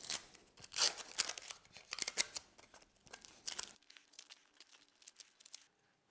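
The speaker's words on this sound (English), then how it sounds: "I'm going to remove the tape and then see what it looks like" Tape is peeled off freshly glued edge banding in a few crackly tearing pulls, loud and close up at first, then quieter rustling and faint crinkles.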